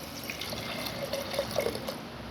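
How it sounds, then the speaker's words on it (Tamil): Water runs and splashes steadily into a pot of lentils, a faint gurgling pour with small bubbling notes, fairly quiet. "பருப்பு முழுகிற அளவுக்கு தண்ணி விட்டுக்கலாம்."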